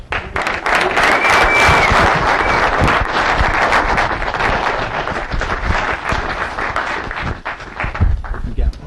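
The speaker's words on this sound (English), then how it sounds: "Please give her a round of applause." Loud, dense applause from an audience at a spiritual lecture event fills the whole stretch, with scattered cheers and voices mixed in, swelling early and slowly thinning toward the end.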